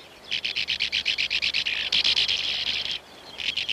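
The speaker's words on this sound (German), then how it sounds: "Das sind Uferschwalben." Sand martins call at their nesting burrows, a rapid rhythmic series of high chirps that runs steadily, merges into a continuous twittering burst, breaks off briefly and then resumes, fairly close and clear.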